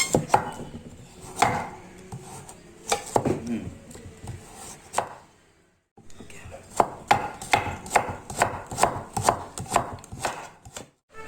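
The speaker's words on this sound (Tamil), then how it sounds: "கேரட் எடுத்து அப்படியே ஜூலியன் ஜூலியனாக கட் பண்ண" A knife chopping carrot into julienne strips on a board, a run of sharp close taps in uneven bursts with a brief pause, then faster regular cuts, no talking.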